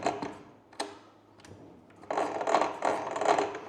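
A FLEX 12-inch miter saw handled while its spindle stop button is pressed, giving a few close plastic clicks and small mechanical knocks followed by a rattling, rubbing mechanism sound.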